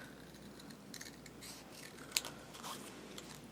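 Scissors cut paper for a handmade card in a series of close, crisp snips and rustles, with one sharp snip standing out and no talk.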